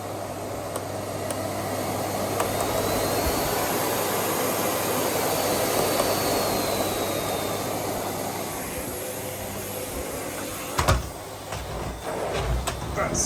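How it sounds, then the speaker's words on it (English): A Miele Compact C2 vacuum cleaner with a Fibertech head hoovers a long-neglected carpet, giving a steady, close rushing drone with a faint rising whine and a few knocks near the end. "I've not hoovered in here for ages, so it will need a hoover."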